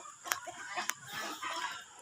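A chicken at a poultry seller's place gives a few short, sharp clucks nearby, with soft background noise between the calls.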